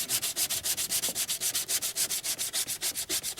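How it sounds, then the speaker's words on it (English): Hand sanding on Bondo body filler over a car dent makes rapid rhythmic back-and-forth rasping strokes, about seven per second, close and steady, with a bright gritty scratch and no talking. "let me get sanding"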